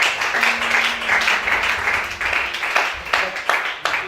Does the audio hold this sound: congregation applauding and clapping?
yes